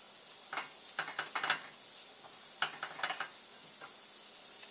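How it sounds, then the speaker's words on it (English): Garlic and ginger sizzling in oil in a pan, with scattered crackles and faint scraping clicks over a soft steady hiss, no talking. "Just give this garlic and this ginger just a few seconds to flavor up this oil."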